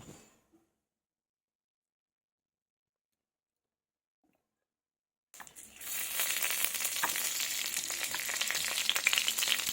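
Mustard oil and green chillies hit a hot pan after a long silence, bursting into a loud, dense sizzle that holds steady for the last few seconds, close up and with no talking.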